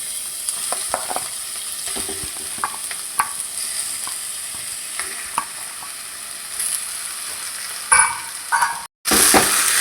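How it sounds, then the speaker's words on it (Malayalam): Chicken pieces sizzle in a hot pan with pepper powder, garam masala and fennel powder for a Kerala-style chicken curry, with steady frying hiss and frequent scraping, stirring clinks throughout, alone without talk. "ഇതിലേക്ക് നമുക്ക് ചിക്കൻ ഇട്ട് കൊടുക്കാം."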